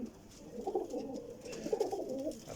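Dabwali and Ferozpuri breed pigeons coo in a breeder setup, giving low burbling rolls that rise and fall, close and moderately loud, with several birds overlapping.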